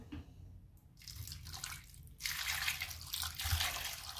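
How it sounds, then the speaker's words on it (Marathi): Water being poured into a pot of salted drumsticks with turmeric before boiling, a splashing, gushing pour that starts, pauses briefly, then comes back louder and fuller for the last couple of seconds. "आणि आता आपण पाणी टाकू"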